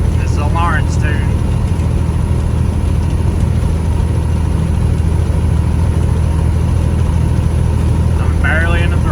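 A heavily tuned big-rig engine in a triple-axle truck drones loud and low, pulling steadily up a mountain grade in high gear, a constant rumble with someone talking over it briefly.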